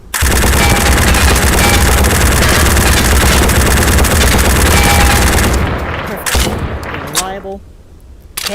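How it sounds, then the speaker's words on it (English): Heavyweight machine gun firing at close range in a video game, a loud unbroken burst lasting several seconds before cutting off, followed by scattered mechanical clanks and ringing tails. "machine gun. Perfect for large battles, not necessarily for special operations."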